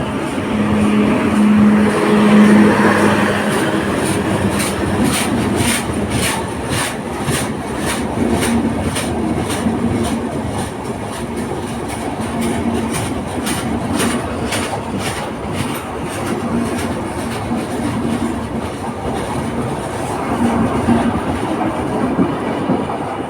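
A train bound for Rajshahi rolls past near the Jamuna bridge without stopping, a loud continuous rumble with rhythmic clickety-clack of wheels on rails and a brief horn tone early on, no talking.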